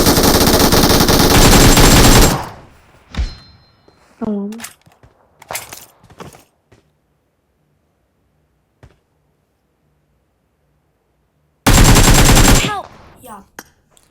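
Machine gun fire in the mobile game PUBG Mobile comes in two loud, rapid sustained bursts separated by scattered single shots, faint effects and a long quiet gap.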